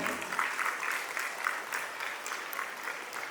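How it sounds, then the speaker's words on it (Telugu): An audience claps steadily at a school's annual day celebration, a sustained ripple of many hands at moderate distance lasting a few seconds without a break. "please clap for your once again"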